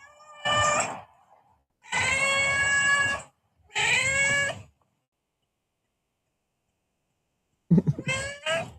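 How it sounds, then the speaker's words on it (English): A feral cat meows loudly and insistently in three long, wailing calls close by, then goes quiet for several seconds before two shorter meows at the end. "she only meows when she gets hungry"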